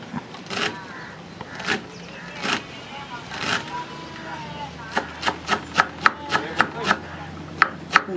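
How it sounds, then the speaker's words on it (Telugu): A bunch of fresh mint chopped with a knife for village-style pulao: a few slow, spaced cuts, then a quick steady run of crisp taps on a board, with a voice speaking over the start. "తాజా పుదీనా ఒక కట్ట తీసుకొని నైస్గా కట్ చేసి పెట్టుకుందాం"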